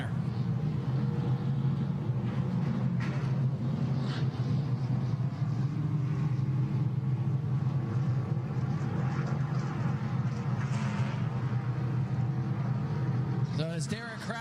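Race car engine from a NASCAR K&N Pro Series East race at New Smyrna Speedway, rumbling steadily during a victory-lap burnout down the front straightaway, heard at a distance beneath continuous announcer talk over the track PA.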